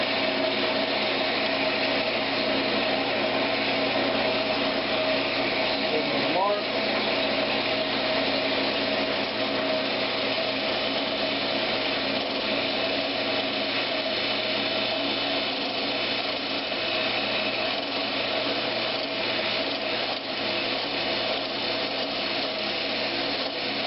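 Wood lathe turning a rolling pin as a tenon is cut to one inch, a steady loud whirring hum with continuous scraping cutter noise throughout, no talking.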